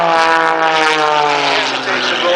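An airshow airplane roars by in a low, fast diving pass, its loud propeller engine drone sweeping downward in pitch as it passes close, with an announcer talking over it.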